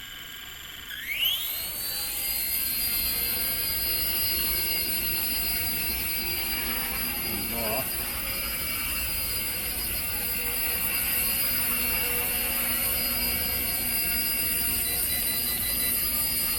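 A 1/48 scale RC UH-1 Huey helicopter flying indoors from a tabletop launch: a high electric whine ramps up fast, then holds a steady, loud buzzing hover close by.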